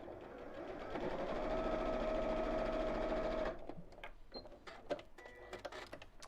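A sewing machine stitches fabric in a steady, whirring run of about three seconds, then stops, followed by quiet handling clicks and rustles of fabric, with no talking.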